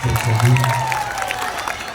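School audience clapping for grade 8 and 9 students on a stage: a loud burst of crowd applause with a faint voice underneath, easing slightly toward the end.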